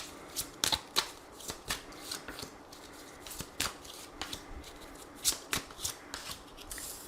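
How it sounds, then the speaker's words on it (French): Oracle cards shuffled and drawn by hand in a quiet room, a string of soft, crisp card riffles and snaps coming in irregular bursts, close and fairly faint with no talking. "je vais prendre 3 cartes et on va voir ce que les anges souhaiteraient vous dire"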